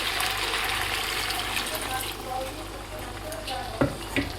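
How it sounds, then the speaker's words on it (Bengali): Water poured into a simmering potato and chicken curry, a steady broadband sizzle and gurgle running throughout, with a couple of brief clinks near the end. "এবার আমি জল দিয়ে দেবো। মশলার বাটি ধোয়া জলটা আগে দেবো।"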